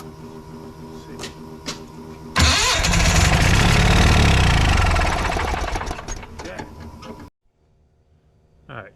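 A Yanmar track dumper's engine cranking over on its starter for about five seconds, loud and close, churning steadily without catching, then cutting off abruptly into near silence.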